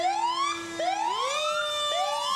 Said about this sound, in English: They have been polishing and they have been tuning up the sirens, it sounds like, Mike.